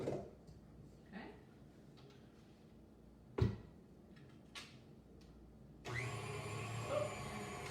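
A stand mixer on low speed starts up partway through, mixing gluten-free banana bread batter with baking soda. Its steady, moderately loud whirring hum follows a few scattered clinks and knocks in the kitchen.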